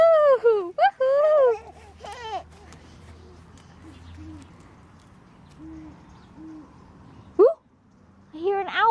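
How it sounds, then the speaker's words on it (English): A few soft, low hoots sound faintly in the distance, spaced apart, while a voice gives high whooping calls before and after. "I hear an owl."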